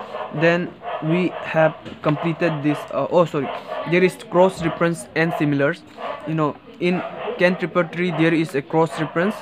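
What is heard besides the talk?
dogs barking outside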